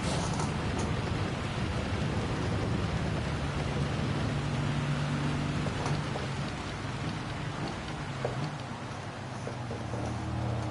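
Steady, dense rain in Gran Turismo 7 during a British Touring Car Championship race at Spa, Belgium, a continuous loud hiss over a low engine drone for the whole stretch.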